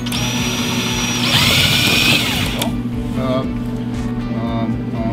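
A power drill whirs up and bores a hole through a car body panel for fitting a fuel pump, a loud rising whine that cuts off after a couple of seconds over a steady low hum.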